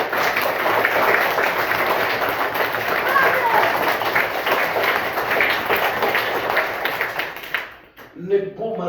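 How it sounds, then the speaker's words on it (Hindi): A crowd at a village primary school gathering claps loudly and steadily in sustained applause for mothers. The clapping fades out near the end and speech follows. "एक बार मां के लिए जोरदार ताली"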